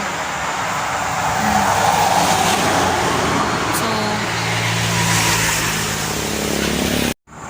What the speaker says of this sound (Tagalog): So ganyan kalakas yung mga sasakyan guys na dumaan dito.